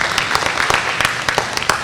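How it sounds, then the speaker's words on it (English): Audience applause for a saxophone player, a brief burst of dense, crackling handclaps from a crowd, loud and continuous with no talk over it. "For that, I think you ought to give him a nice round of applause."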